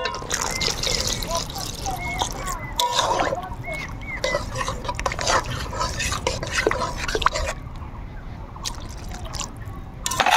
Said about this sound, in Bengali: এখন দিয়ে দিব আমরা জল।